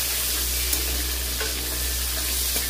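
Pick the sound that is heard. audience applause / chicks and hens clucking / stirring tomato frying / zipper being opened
stirring tomato frying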